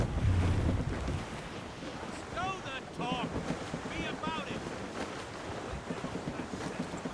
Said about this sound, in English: Wind's getting vicious.